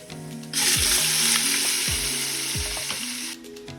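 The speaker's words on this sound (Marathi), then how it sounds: "इथे तेल टाकले आणि त्यामध्ये खडा मसाला टाकलाय थोडासा आता यामध्ये अद्रक लसूण पेस्ट टाकणार आहे" Ginger garlic paste hits hot oil with whole spices and bursts into a loud, continuous sizzle that holds for about three seconds, with low clunks of stirring underneath, then cuts off.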